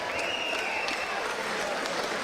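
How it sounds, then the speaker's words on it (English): Boxing crowd applauding both fighters after a four-round bout at a live fight night, a sustained dense wash of clapping and crowd noise filling the hall, with no talk over it. "could we please have a big round of applause for both of our boxers"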